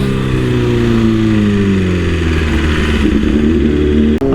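A BMW S1000RR sport motorcycle with a Brentune stage 2 tune roars loudly and close, its engine note sweeping smoothly up and down through the revs before briefly cutting out near the end.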